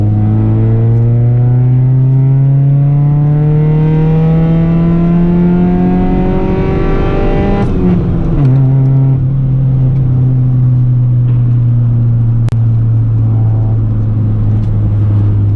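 A Honda CRX engine pulls hard at full throttle, its note climbing steadily in pitch, then briefly breaks off as a gear change drops the revs before it climbs again, loud and close from inside the car with no talk.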